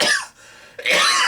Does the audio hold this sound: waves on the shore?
no